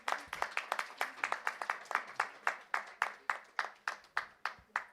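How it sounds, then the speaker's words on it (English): Audience at an AI innovation event in India clapping for a speaker, a steady run of fairly distant, roomy handclaps in regular bursts with no talk over it. "Can we have huge round of applause?"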